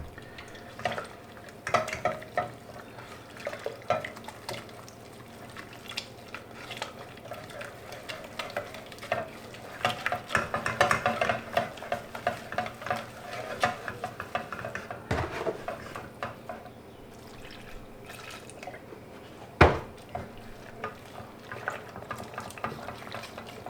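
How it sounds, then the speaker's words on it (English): A whisk stirs milk into a white sauce in a saucepan, producing soft continuous scraping and liquid swishing with occasional clinks against the pan, quiet and close throughout. "Keep whisking, keep whisking."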